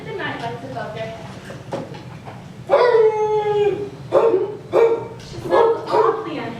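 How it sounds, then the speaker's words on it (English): Cartoon dog Nana barks repeatedly in a nursery at night, sensing danger: several loud, urgent howling barks in a rhythmic series, close and clear over a low background. "That's her bark when she smells danger."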